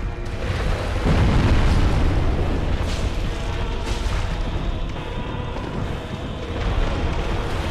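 A deep, roaring blast from the Stray Demon's explosion attack in a video game rumbles loud and close, swelling sharply after the first second and sustaining a heavy, booming wash to the end with no talk.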